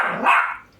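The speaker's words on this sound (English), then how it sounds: "Dog in the background that once upon a time we were wondering if it's ever going to bark." A dog in the background lets out a single short bark, moderately close and clear, fading quickly with no talk.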